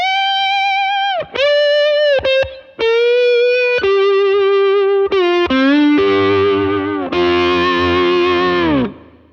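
Electric guitar on the neck pickup through a pedalboard, with bluesy distorted single notes and bends, loud and upfront, short pauses between phrases, ending on a sustained chord that fades.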